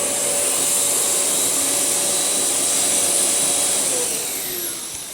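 A premium vacuum cleaner with a brush roll runs continuously on carpet, a loud, steady, close whine and rush of airflow that eases slightly near the end.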